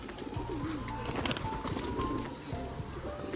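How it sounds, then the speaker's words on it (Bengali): Pigeons cooing at a pigeon loft at a house, soft repeated low coos close by under a continuous noisy background. "দেখো ওর বাড়িতে কত পায়রা"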